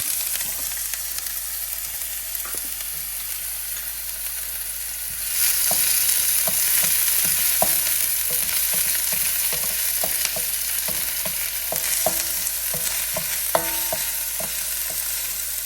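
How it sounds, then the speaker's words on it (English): Onions hit hot oil in a pan, and the sizzle jumps to a loud, steady hiss, then continues under repeated clicks and scrapes of stirring. "we have some oil in our pan and we're going to add the onions."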